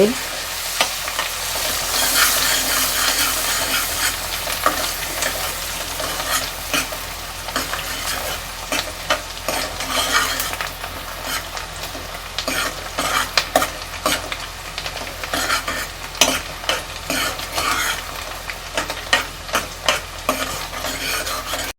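Chopped onions and a little coriander fry and are stirred in hot oil tempering for pav bhaji, a steady close sizzle with irregular scraping stirs and clinks throughout, no talking.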